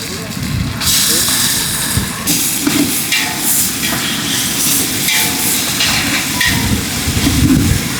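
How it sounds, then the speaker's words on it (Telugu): Ginger paste frying with browned onions and green chillies in a pan for prawn biryani, giving a steady, loud broadband hiss and sizzle that runs continuously with faint clattering throughout. "అల్లం పేస్ట్ బాగా వేగిపోయింది"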